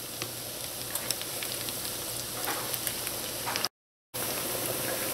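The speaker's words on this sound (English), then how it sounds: "Allow your Ackee and saltfish fritters to fry until they're nice and golden brown" Small ackee and saltfish fritters frying in hot oil, giving a steady, close crackling sizzle with scattered pops throughout, uninterrupted by talk apart from a brief dropout of silence near the end.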